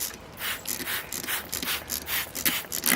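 A handheld spray bottle squirts water to wash sand off bonsai roots in a pot, giving a series of short, faint spritzes in an uneven rhythm close by.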